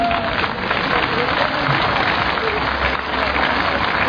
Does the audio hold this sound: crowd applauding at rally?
yes